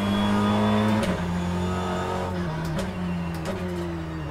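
A BTCC touring car's engine drones steadily at Donington in rFactor 2, with a whining transmission and small pitch dips like gear changes, loud and close, without talk.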